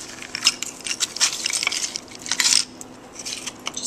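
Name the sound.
crushed ice packed into a cocktail glass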